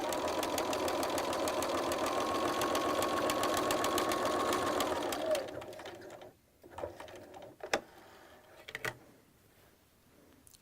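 A sewing machine stitches a flat felled seam like those on jeans and denim jackets, running in a steady, rapid mechanical rattle for about five seconds. It then stops, leaving scattered soft clicks and fabric handling noises.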